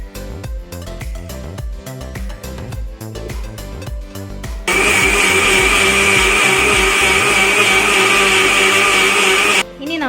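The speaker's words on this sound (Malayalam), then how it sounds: "എന്നിട്ട് ഒന്നുകൂടി മിക്സിയിൽ അടിക്കുകയാണ്." After some rhythmic background sound, a kitchen mixer grinder roars on loudly and steadily for about five seconds, blending rice flakes with milk and sugar for aval milk, then cuts off abruptly.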